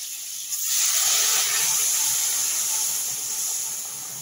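Hot water poured into a pan of frying spice paste with oil released, bursting into a loud steamy sizzle and hiss that swells quickly and holds steady before easing slightly.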